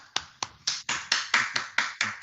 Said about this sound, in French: J'applaudis tout seul dans mon salon présentement